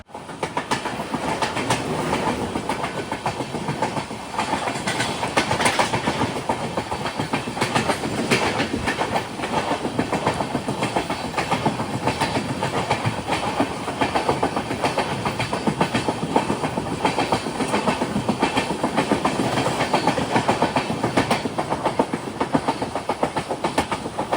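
The Konkan Kanya Express rolls into Vaibhavwadi Road station with steady, loud clickety-clack of wheels over rail joints and a continuous rumble of passing coaches, with no voices.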